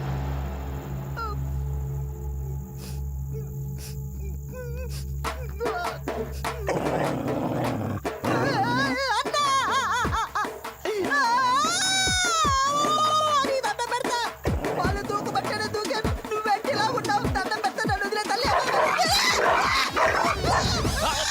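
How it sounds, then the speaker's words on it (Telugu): Dogs bark and growl, close and loud, with harsh snarls and yelps over a busy scene-style soundtrack. "అది కుక్కలు."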